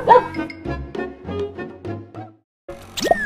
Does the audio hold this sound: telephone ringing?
no